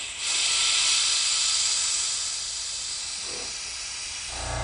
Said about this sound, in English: I actually have this little vacuum bleeder tool right here